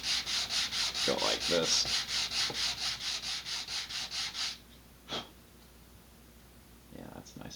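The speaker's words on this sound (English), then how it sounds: "I'm just going to get a nice big piece of sandpaper and" Sandpaper rubs back and forth across laser-cut wood in a quick, rhythmic series of close scratchy strokes for about four and a half seconds, then stops. A few soft knocks and a brief spoken comment follow.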